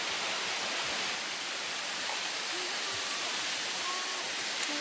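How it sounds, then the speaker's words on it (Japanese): A powerful waterfall, a dense, steady roar of falling water that stays loud and unbroken throughout with no pauses. "すごい滝だ"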